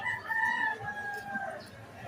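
A chicken recovering after having its abdomen stitched for a liver injury, giving drawn-out, strained clucking calls at close range for about two seconds, with no talk over them.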